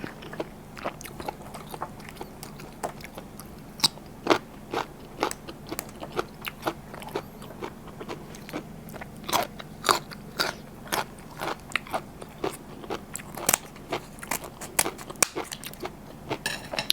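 Someone eats sweet Alaskan giant king crab meat with seafood dipping sauce, giving close, loud, irregular crunches and crackling bites of shell over about seventeen seconds.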